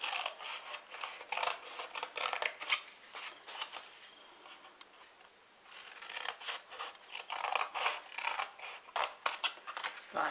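Scissors snip repeatedly through paper while trimming pieces for an exploding surprise box, close-up crisp cuts in two busy bursts separated by a quieter pause.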